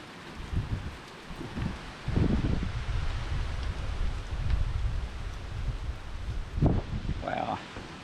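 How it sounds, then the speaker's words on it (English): Strong gusts of wind buffet the microphone on a walk toward a river in autumn, with rustling bursts and low rumbling surges rising and falling over several seconds. "Wow, it's windy."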